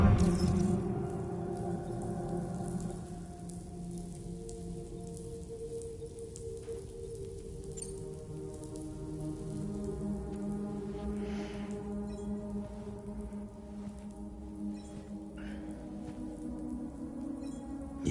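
Steady rain falls in the video game Death Stranding, a continuous wash of patter with low droning tones underneath, even and moderately loud throughout with no voices.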